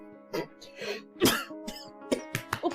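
A woman coughs several times in short, sharp bursts with brief pauses between, fairly close and distinct, with a bit of throat clearing mixed in.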